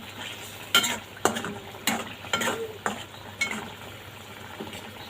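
Pangas fish curry masala is sautéed in a pan under a soft sizzle, punctuated by about seven sharp, close scrapes and clacks of a spatula stirring at a steady pace.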